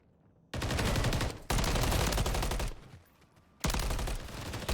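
Bursts of video game gunfire, including pistol shots, crackle loudly in three dense volleys with short gaps between them during a competitive team match.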